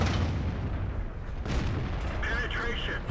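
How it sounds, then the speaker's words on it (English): Tank guns fire in the World of Tanks video game, heavy booming shots over a constant rumbling battle background, with a commentator speaking throughout. "Oh, the Scorpion's shooting on him."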